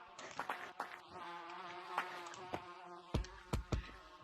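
Bees buzzing around a smacked beehive, a faint insect drone with whining passes and several soft thumps near the end, heard close with no talk.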